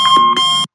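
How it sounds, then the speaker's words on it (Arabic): Alarm clock sound effect: two quick, loud electronic beeps in close succession that cut off abruptly into silence. "وهذا صوت ساعة."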